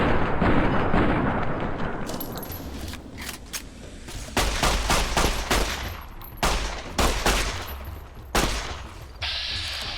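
Gunfire in the video game Fallout New Vegas, a rapid fusillade of loud close shots, first blending into a continuous roar and then breaking into distinct bursts of single cracks spaced unevenly over a rumbling background.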